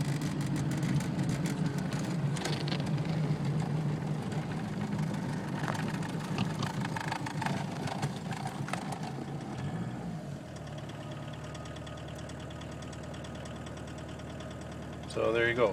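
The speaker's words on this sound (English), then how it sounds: "So there you go, sitting at idle. Running on vegetable oil." A diesel engine idles on waste vegetable oil with a steady low rumble and faint knock, a voice talking over it at first, then the engine note settles.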